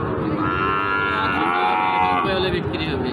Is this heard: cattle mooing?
yes